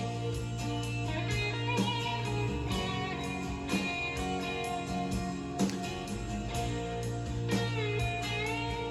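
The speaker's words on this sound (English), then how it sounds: "And the Plexi with the 57 gold top sounds like this." A 1957 Gold Top electric guitar played through a Plexi amp and an Archer Select overdrive pedal carries a sustained, melodic overdubbed lead line over a full band mix, heard faintly at low volume.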